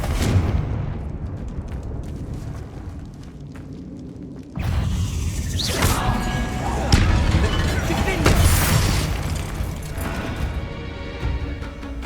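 In Hogwarts Legacy, a Confringo fire-blast spell bursts in a grassy catacomb, a heavy booming explosion with crackling debris that rumbles on for several seconds, followed by further loud impacts amid game ambience.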